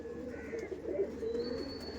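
Punjabi pigeon cooing softly, a low murmuring coo repeated over a couple of seconds with faint background chirps, quiet and close.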